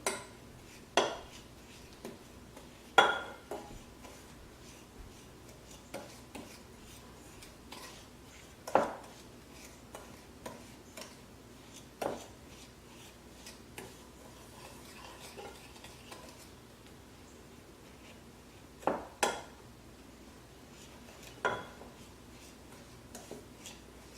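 Coffee grounds and brown sugar being stirred in a bowl, a soft, quiet scraping with sporadic sharper clinks of a utensil against the bowl spread across the clip.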